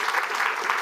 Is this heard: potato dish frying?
no